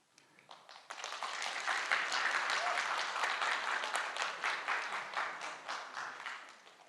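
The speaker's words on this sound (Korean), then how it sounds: "진실한 박수는 한 명이었어요." An audience at a lecture breaks into applause that starts with a few hands, then swells into steady, moderately loud clapping before thinning toward the end.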